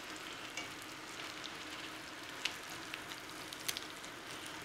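Low-carb keto crab cakes fry in a pan, giving a soft, continuous crackling sizzle with occasional faint pops, fairly quiet and unbroken, with no talk.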